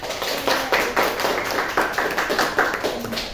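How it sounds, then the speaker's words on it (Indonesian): Students clapping in a classroom during a microteaching lesson, a fairly close burst of quick, uneven hand claps with a few faint voices underneath. "Tepuk tangan lagi."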